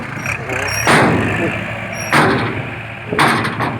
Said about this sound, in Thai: รถไถก็มา